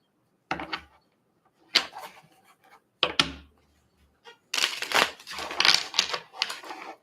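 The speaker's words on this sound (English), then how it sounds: "I'm going to shuffle it more." Tarot cards riffle and slap in several separate bursts, crisp and close, with quiet pauses between shuffles and a longer, busier shuffle at the end.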